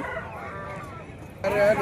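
Roosters call at the Mydukur poultry market, a muffled clucking drone that swells into a louder, sharper crow near the end, set against busy market bustle.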